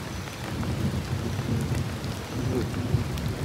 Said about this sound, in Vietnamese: Mưa dữ lắm luôn á nè.